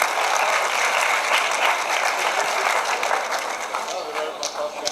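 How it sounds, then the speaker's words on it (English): A crowd at a University of Abuja youth event applauds a senator with loud, dense clapping that fills the whole stretch and eases slightly toward the end. "Another round of applause for him."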